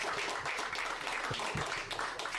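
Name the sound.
audience applause for conference panel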